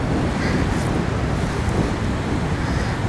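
Steady wind sweeping across open Dartmoor moorland near the East Dart River, a loud, continuous broadband rush with gusty buffeting on the microphone and no speech.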